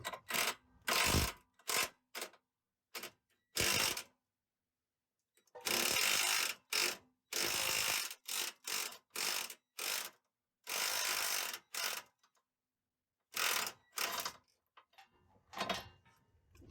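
A ratchet on a 15 mm swivel and extension loosening a sway bar mount bolt on a diesel Jeep JL, heard as loud, close bursts of rapid clicking separated by short silences.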